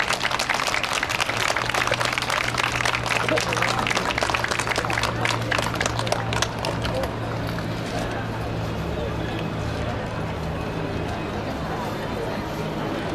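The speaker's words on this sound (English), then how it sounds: "Now let's give them a warm applause." Dense clapping from a crowd, loud and steady at first, then thinning out toward the end, with a low hum underneath.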